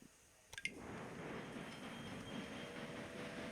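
Trains running in the video game Railway Empire, Japan DLC, starting with a couple of sharp clicks then settling into a continuous, fairly quiet rolling rumble.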